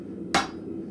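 A single sharp blacksmith hammer blow on hot metal at an anvil, close and ringing briefly over low forge room hum.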